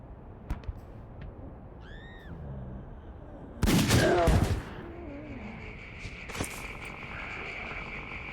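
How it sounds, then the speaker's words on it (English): In the zombie survival game Dead Age, a short, loud burst of gunfire cracks out midway against a quiet ambient background, with a few faint creature-like cries around it. "You thank your lucky stars when your gunshot felled the zombie."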